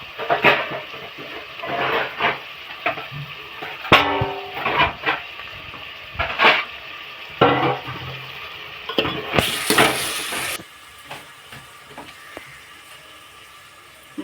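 Tomatoes tipped into a pan for bean-tomato curry, followed by a series of close clacks and scrapes from a spoon stirring against the pan under a soft sizzle, with a brief louder hiss near the end.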